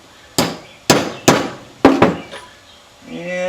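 Hammer tapping a lock ring onto the motor bearing of a small Intex pump AC motor, five sharp metallic strikes at uneven spacing, close and loud, then a faint hum at the end.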